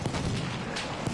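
Heavy tank cannons firing at close range, tank against tank, heard as a dense rumbling barrage with several sharp booms spread across a second, loud and close.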